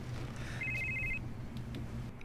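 A telephone rings indoors in short, bright repeated trills, moderately loud over a low steady background hum, with no voices.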